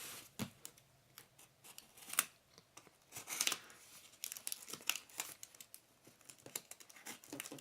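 A penknife cuts packaging tabs and sticky tape on a boxed hot plate, making sharp intermittent snips, clicks and crinkles, close and quiet, with no one speaking.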